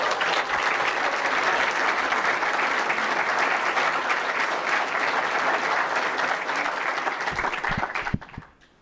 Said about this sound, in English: But would you also give a round of applause for our athletic director, Kelly Wells.